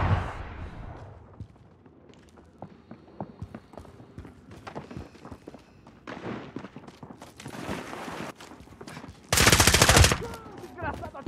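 Video game gunfire, scattered single shots and short bursts through the clip ending in a loud, dense burst near the end, mixed with footsteps and game ambience.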